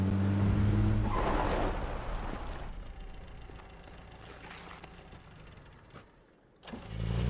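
A burning car driven in PUBG. Its engine drones loud and close at first, then fades and thins before revving back up near the end, with no talk over it.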